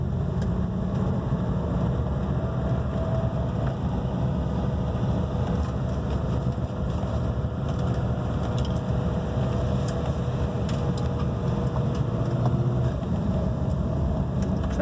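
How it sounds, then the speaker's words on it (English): A Mercedes 300SEL 6.3 being driven, its engine a steady, continuous low drone with road rumble throughout and no distinct gear change standing out. "Transmission shifted into second."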